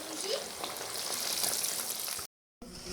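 Fish frying in hot oil over a high flame, giving a loud, continuous sizzle that cuts off abruptly near the end.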